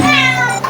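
Noisy house cats meowing loudly and close, a drawn-out harmonic wail filling the short moment with no talk over it.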